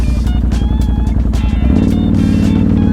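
A Can-Am off-road vehicle's engine revs loud and close, its dense rumble climbing steadily before settling into a smoother, fuller drone as the clutch engages around 2000 rpm, with a voice briefly heard over the roar.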